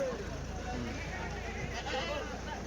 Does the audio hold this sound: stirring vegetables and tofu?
no